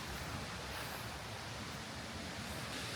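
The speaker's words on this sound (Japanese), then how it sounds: "すごい音、滝が岩に当たる音が響き渡っております" Large, tall waterfall in Hinokage, Miyazaki crashing onto rocks, a dense steady roar of white water filling the whole stretch, loud and continuous with no voices.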